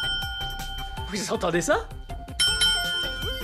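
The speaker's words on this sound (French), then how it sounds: "Oh! Une sonnette! Écoutez!" A bicycle-style bell at a zoo rings in quick repeated dings, loud and close, while someone speaks excitedly in French over and between the rings.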